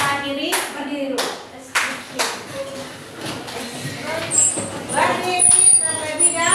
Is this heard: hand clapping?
yes